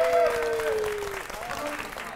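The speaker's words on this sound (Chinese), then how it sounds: "所有人一起掌声感谢一下涛了。" An audience applauds, a scattered patter of clapping under a tonal sound that slides downward, with voices present at the same time.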